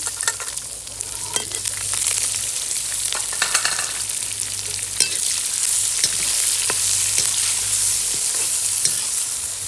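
Onions frying and being stirred in a pan for kadhi, a steady close sizzle with occasional scraping stirs throughout, no talking.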